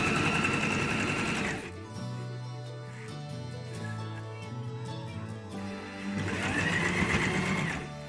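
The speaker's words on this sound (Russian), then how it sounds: "Прострочим немножечко от края, отступая." Sewing machine stitching a patchwork quilt near the fabric edge, a fast steady mechanical whir that is louder at the start and the end with a quieter stretch between.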